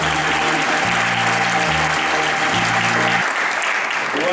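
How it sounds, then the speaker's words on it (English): Loud, dense applause from an awards ceremony audience, sustained steadily for about four seconds, with music playing underneath. "Let's give them another round of applause"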